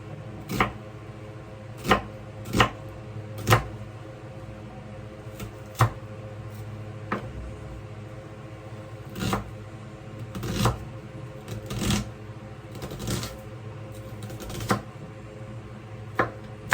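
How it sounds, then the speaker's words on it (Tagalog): Knife chopping an onion in a home kitchen: a series of sharp, separate blade taps against a board, some in quick pairs and others spaced out, close by and fairly crisp over a low steady room hum. "Sibuyas naman. Hatiin ko rin lang to"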